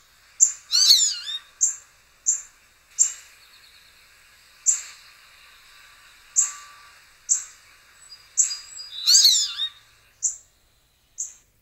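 A bird repeating a short two-part call that sounds like "potato chip," sharp bright chirps spaced irregularly with brief gaps, plus a couple of longer warbled phrases, clear and alone over silence.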